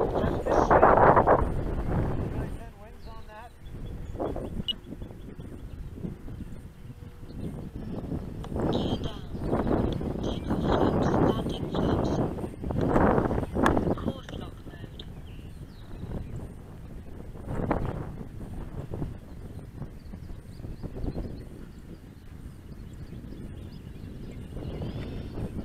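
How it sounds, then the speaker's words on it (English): Strong crosswind buffets the microphone in loud, gusty bursts during a model aircraft's flight, with an engine drone and occasional speech underneath. "It is windy, man."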